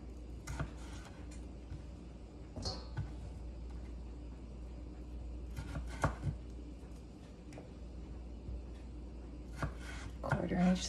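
A kitchen knife slicing potatoes into 2-inch batonnet sticks, a few sharp, separate strokes on a cutting board over a steady low hum, with no talking.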